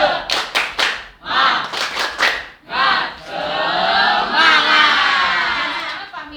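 A class of students performs the tepuk semangat spirit clap in a school lesson: several quick rhythmic bursts of group clapping, then a sustained loud collective shout from the whole room.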